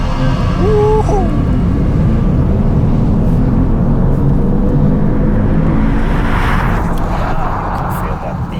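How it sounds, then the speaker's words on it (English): A Mercedes-AMG EQS 53, a heavy four-wheel-drive electric car, makes a race start. Inside the cabin a steady low rumble and whir of road and motor noise hold throughout, with a brief hiss building near the end. "Race start. Listen, the whole car shakes."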